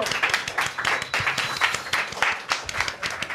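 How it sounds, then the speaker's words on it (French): A crowd applauds warmly, dense overlapping clapping throughout at steady volume. "Oui, on l'applaudit."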